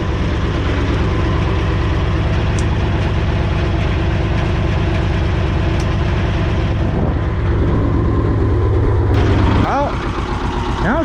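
Belarus 250AS tractor diesel engine running at a steady idle after fuel system cleaning, a continuous close rumble with even low pulsing throughout, briefly shifting near the end.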